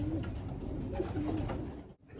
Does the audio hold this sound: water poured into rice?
no